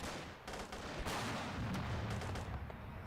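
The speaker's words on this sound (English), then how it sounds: "Mortar now being used to try and create space here for Sky" Mortar and gunfire in a World War II strategy game battle, with dense rumbling blasts and crackling shots overlapping continuously at high loudness.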